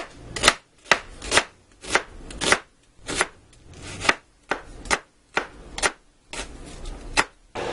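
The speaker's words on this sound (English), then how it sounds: "I'm going to slice up 2 large onions." A knife slices through two large onions on a cutting board, about fourteen crisp, evenly spaced chops in a steady rhythm, close and clear with no talking.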